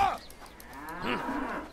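A cow lowing in the video game Bellwright, one drawn-out moo that swells after a short pause, fairly close and moderately loud, with no talk over it.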